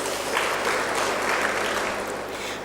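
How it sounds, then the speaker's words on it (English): Conference audience applause, a brief, dense and steady burst of many hands clapping at once, fairly loud and even throughout. "Let us give them a round of applause."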